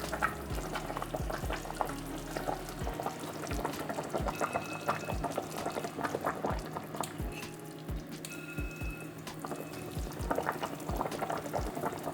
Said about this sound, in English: It's important to have it a bit boiling.